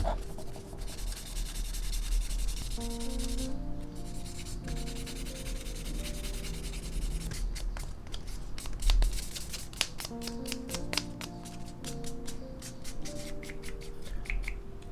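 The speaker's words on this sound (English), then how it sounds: "Just sand it down to make it smooth before priming." Gunpla plastic model kit parts are sanded smooth before priming, with a steady run of close, dry rubbing and scratching strokes that come in quick rhythmic bursts over soft background music.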